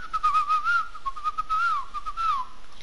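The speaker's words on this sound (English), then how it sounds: "Bird was just sitting there whistling." A bird whistles in a quiet scene from The Walking Dead Telltale video game, a clear, high warbling tune carried on continuously in wavering phrases, close and prominent with no speech over it.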